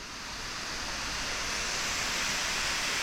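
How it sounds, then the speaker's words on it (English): Waterfall in the Springbrook rainforest, a dense steady roar of rushing water heard close and alone, unbroken from start to finish. "another waterfall."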